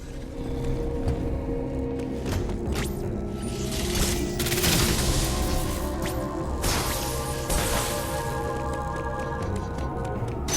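A Super Bomb goes off in Metroid Dread with a dense run of booming blasts and crashing bursts, loud and layered over game music, peaking in a few heavy surges with no talking.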